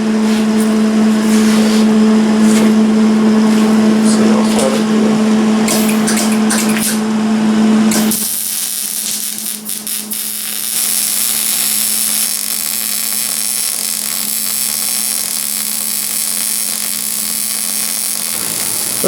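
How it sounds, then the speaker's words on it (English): Welder fusing a steel motor plate onto a mini bike frame: a steady, loud buzzing hiss with a constant tone that holds for about eight seconds, then gives way to a harsher, broader crackling hiss that continues to the end. "I'm just gonna go ahead and weld it on"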